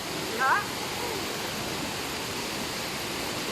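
Water rushes steadily at Talasob waterfall, a dense, unbroken roar holding at even loudness throughout, with a brief voice exclamation near the start.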